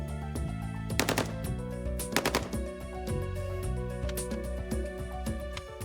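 An AK-47 rifle fires in a weapons test, bursts of rapid automatic shots over a dense, steady background of music and noise.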